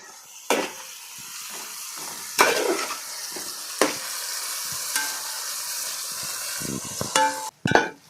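Duck fry sizzling in a pan while being stirred, with sharp scrapes and clinks of the spoon against the pan recurring over a steady hiss of frying, close and fairly loud.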